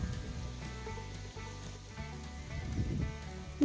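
Garlic, curry leaves and green chillies sizzle in hot oil in a pan while prawn fry is being cooked, a steady crackling hiss that stays fairly quiet and even throughout.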